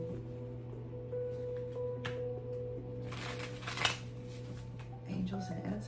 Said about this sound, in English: Okay, let's just shuffle the cards.